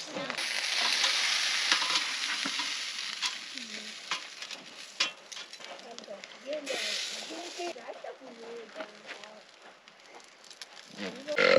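Potatoes and onions frying on a campfire in the desert, a steady sizzle with stirring scrapes throughout, under intermittent nearby talk.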